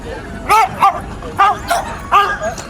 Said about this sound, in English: He's also very vocal, as you'll hear. A lot of Staffords like to talk to you.